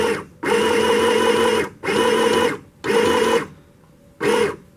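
A sewing machine stitches through thick fabric as a sleeve is sewn on, running in four loud, steady bursts of about a second each separated by short pauses, close and with no talk.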